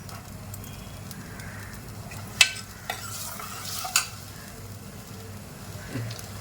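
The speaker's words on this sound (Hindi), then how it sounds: "बहुत अच्छे तरीके से इसकी भुनाई करना है आपको।" Quiet sizzling of peas being stir-roasted in a pan with occasional scraping and clinks of a spoon stirring, a low steady background hum underneath.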